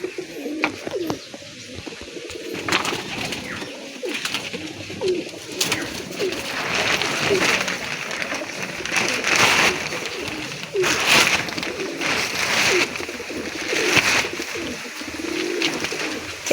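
Pigeons coo in a steady, overlapping chorus throughout, including a match-playing male racing pigeon shown in a loft, with scattered chirps and rustling close by.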